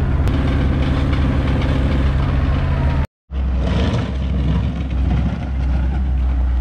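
A John Deere or Kubota tractor engine idles loud and steady at close range, a low diesel drone with a brief dropout partway through before the same rumble resumes.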